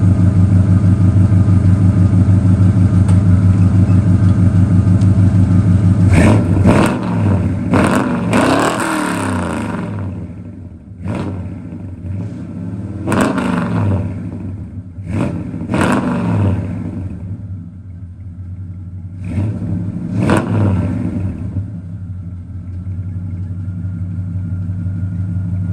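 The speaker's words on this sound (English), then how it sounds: "So true dual Flowmaster 40s with Headman headers sound like." A car engine breathing through true dual Flowmaster 40 mufflers and Hedman headers idles with a deep, loping rumble, then barks through a series of sharp throttle blips and revs before settling back to idle, loud and close.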